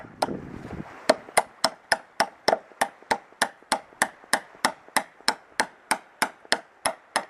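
A bolt is hammered into a wooden dock frame with about twenty sharp, evenly spaced strikes, loud and close, each ringing briefly before the next.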